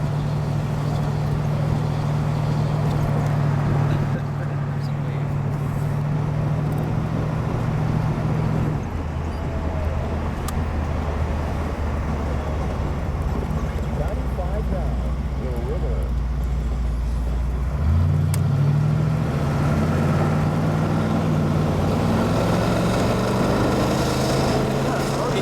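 A 1982 Excalibur Phaeton with an upgraded engine drives through traffic, its low engine drone steady and close, rising in pitch as it accelerates toward the end, with people talking over it throughout.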